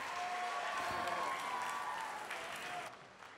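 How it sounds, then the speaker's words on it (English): Dense audience applause fills a hall at the Miss Universe Malaysia 2018 gala night, a steady clapping roar that thins and fades near the end. "Please give her another stunning round of applause, ladies and gentlemen."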